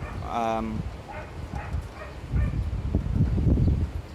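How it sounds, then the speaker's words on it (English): A small dog yaps in a few quick barks, with rustling and handling noise close by. "there's a dog barking in the background."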